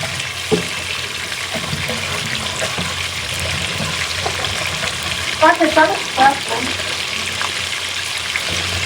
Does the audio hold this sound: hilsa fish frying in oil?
yes